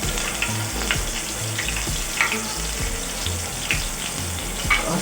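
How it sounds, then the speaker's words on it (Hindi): Ginger garlic paste sizzles steadily in a pan of hot oil with fenugreek seeds over low heat, a continuous close frying crackle with occasional stirring scrapes and no talk. "अब मैं इसके अंदर अदरक लहसुन का पेस्ट डाल दूँगी"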